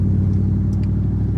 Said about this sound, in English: you can hear when I give it gas, you can hear the truck